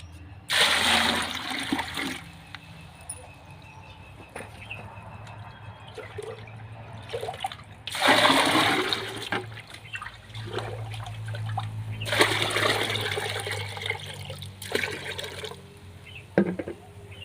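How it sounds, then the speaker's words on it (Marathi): Water pouring into a plastic bucket, about ten litres for homemade liquid fertilizer, in three long gushing bursts, with quieter trickling and dripping between them, close by. "त्याच्यामध्ये मी पाणी घालून घेते"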